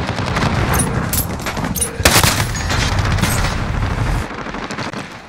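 M1911 pistol fire in Call of Duty: Modern Warfare, mixed into a loud dense firefight with rapid shots and a heavy crack in the middle, gunfire continuous before fading.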